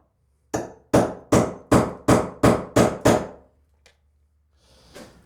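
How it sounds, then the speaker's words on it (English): Eight sharp hammer blows strike a nail punch in quick steady succession, setting nails below the surface of timber framing, loud and close, followed by a faint tap and a soft rustle. "I want to punch these nails below the surface of the timber so they don't damage the blade."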